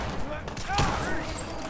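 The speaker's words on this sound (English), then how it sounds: "Did I just shoot Preston's Molotov out of midair?" Gunfire in Fallout 4 rings out in a loud, close burst of shots mixed with game effects, while people talk excitedly over the action.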